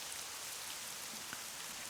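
Steady rain falls in a constant, even hiss for about two seconds, with no voices and only a few faint drops standing out.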